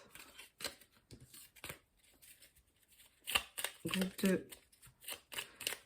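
Oracle cards being shuffled and drawn from a small deck, giving quick papery riffles and flicks in bursts, close by, while someone speaks French over them.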